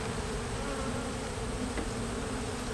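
Honey bees buzz steadily and densely in a weak, unhealthy single brood box hive during an inspection, a continuous close drone with no voices.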